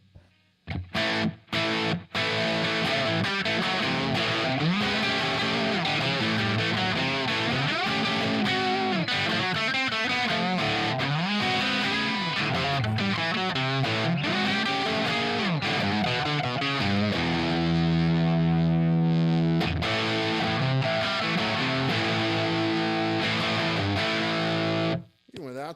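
A Gibson electric guitar played through a Proto amp with drive distortion, loud and continuous: gritty crunchy chords and sustained notes with bends, ringing out near the end.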